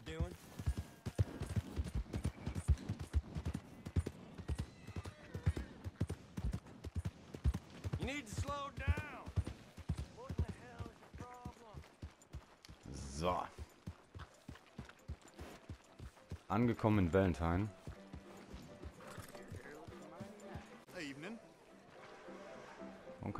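Horse hooves clip-clop in Red Dead Redemption 2, arriving in the town of Valentine: a steady run of soft hoof beats under frequent talking, with other game sounds and speech mixed in.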